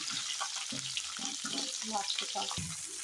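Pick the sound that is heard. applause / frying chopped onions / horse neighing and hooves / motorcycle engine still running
frying chopped onions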